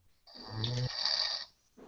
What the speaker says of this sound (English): he snored at me before